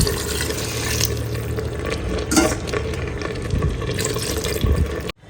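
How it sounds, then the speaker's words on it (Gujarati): Water is poured into a pot of vegetables simmering in oil for Rajkot-style chapdi tavo, making a sustained splashing and sizzling that swells and ends abruptly. "તો હવે આમાં નાખી દઉં છું પાણી"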